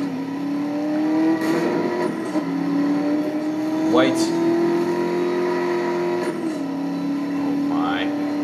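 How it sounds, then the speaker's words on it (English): A Mercedes-Benz SLS AMG engine in Need for Speed: Most Wanted hums steadily with rising whistle-like turbo spool and brief revs, with someone talking excitedly over it. "I don't remember hearing turbo noise."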